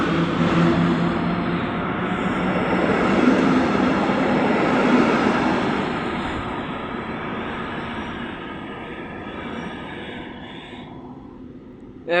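A Komenius passenger train pulls away with a loud, steady rumble and rolling rail noise that swells near the start, then eases and fades over about twelve seconds, with no talk.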